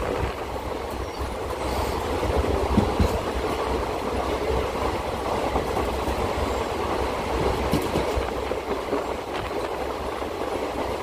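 A Siliguri to Malbazar DEMU train runs at speed, giving a steady, close rumble of wheels and carriage with faint rhythmic clatter throughout.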